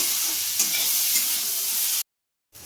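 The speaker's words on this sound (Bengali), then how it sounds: "কুঁদরি আর আলুটা পেঁয়াজের সঙ্গে ভালোভাবে ভেজে নেব" Ivy gourd and potatoes sizzle and crackle with onion in a hot pan with occasional stirring scrapes, loud and close, then the sound cuts out briefly before resuming.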